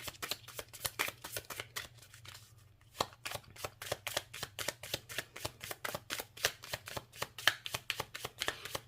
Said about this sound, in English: Let's pull one or two more cards.